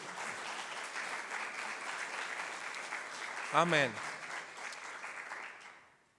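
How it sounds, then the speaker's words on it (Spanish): Church congregation clapping in an offering of applause during a sermon, a steady moderate wash of hands that fades out at the end, with one voice briefly calling out partway through. "De una ofrenda de palmas"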